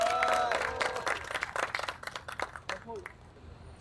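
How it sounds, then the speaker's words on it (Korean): Crowd clapping and cheering at an outdoor construction workers' rally near Sangnoksu Station, a burst of applause that thins and fades while a voice speaks over the PA. "박수 함성 부탁드립니다"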